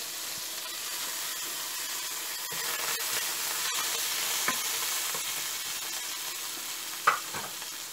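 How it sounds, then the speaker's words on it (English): Food sizzles steadily in a hot pan, a dense continuous hiss with a few faint clicks and taps from stirring, moderately loud with no talking over it. "let it fry for about 10 seconds."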